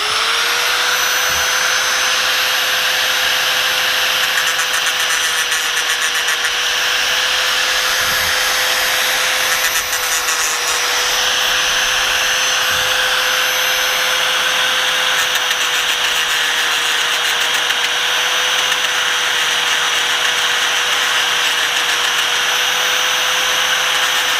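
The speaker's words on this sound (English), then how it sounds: "we're just going to grind that down until we can see the circle that we want for eliminating the rivet" A grinder grinds steadily down through the rivet on a Husqvarna chainsaw bar's blown sprocket tip, a loud continuous high whine holding an even pitch from start to finish with no talk.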